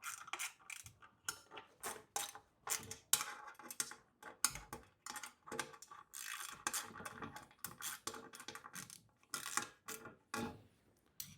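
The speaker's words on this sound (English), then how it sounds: "Again, tightening with your 10mm spanner." A 10mm spanner tightening bolts on a bed frame gives quiet, repeated metallic clicks and ratcheting bursts in irregular short clusters, with no talk.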